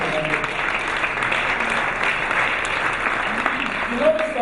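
Sustained audience applause fills an awards gala hall, a steady dense wash of clapping from a large crowd that holds evenly throughout.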